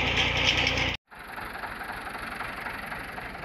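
A tubewell pump engine runs with a steady mid-pitched chugging drone, close and continuous after a brief cut near the start, with no voices.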